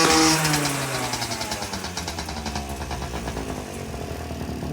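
A freshly built Garelli SSXL moped engine with a new cheap aftermarket carburetor revs loudly, then drops back down and settles into a steady, buzzing idle, close up with no talking.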